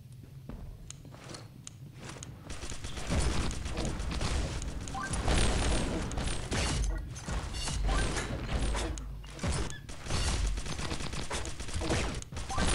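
Pixel Gun 3D video game gunfire: dense, continuous rapid shooting with clanking mechanical bursts, loud and steady throughout.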